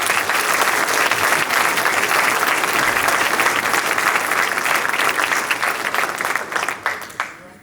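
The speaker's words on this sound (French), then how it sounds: "nous fassions un tonnerre d'applaudissements pour ces femmes et ces hommes qui s'impliquent pour notre vie" An audience at a mayor's 2025 New Year wishes ceremony breaks into sustained, loud applause, a dense steady wash of clapping that carries on for several seconds before tapering slightly at the end.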